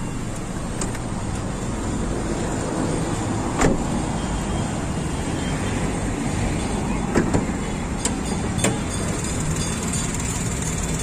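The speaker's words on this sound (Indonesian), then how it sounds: "Untuk mesin sendiri masih halus," A 2017 Daihatsu Ayla type M engine running smoothly at idle, a steady quiet hum heard close with a few faint clicks and knocks.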